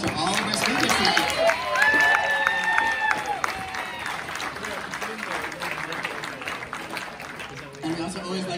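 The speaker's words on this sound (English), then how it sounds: "Let's give another round of applause to all of our speakers tonight." An audience at a Nerd Night talk on period poverty applauds its speakers, a crowd clapping and cheering at moderate distance with a few whoops, fading gradually over the clip.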